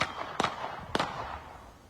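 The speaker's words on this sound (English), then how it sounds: "Thankfully, Kimberly, not one person was hit by all that gunfire." Two sharp gunshots about half a second apart in news footage of a shooting, each a loud crack with a short echoing tail over a dull background hiss.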